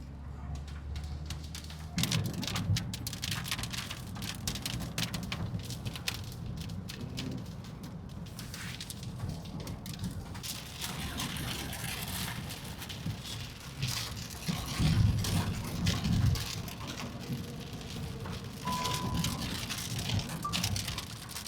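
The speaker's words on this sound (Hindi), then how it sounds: "बारिश अच्छी खासी हो रही है" Rain falling on a car driving along the Delhi Meerut Expressway, a continuous patter and hiss over low road rumble, heard from inside with no talking.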